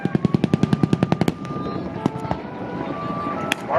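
Airshow pyrotechnics firing for a Skyraider gun pass: a rapid string of about a dozen sharp bangs, then scattered single pops and distant booms, loud and outdoors with a faint voice in the background.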